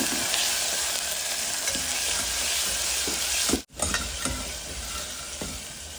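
Asafoetida, green chilli and tomatoes sizzle steadily in a hot pan while being stirred, with a spoon scraping through the mixture and one brief break midway before the frying resumes.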